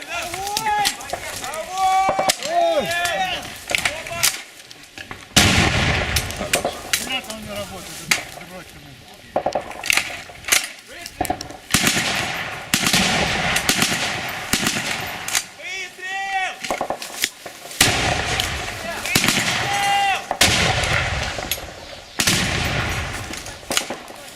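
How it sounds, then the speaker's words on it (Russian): An automatic grenade launcher fires during combat near Marinka, producing sharp bursts of blasts and impacts in irregular clusters, loud and close, mixed with shouted talk between the volleys. "Это по нам АГС работает"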